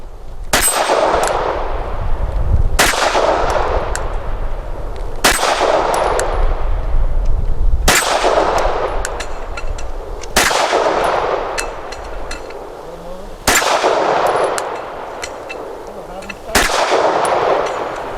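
Canik METE SFX pistol fired in rapid bursts, seven sharp loud cracks spaced a few seconds apart, each with a ringing metallic tail and echo, close to the microphone with no talking.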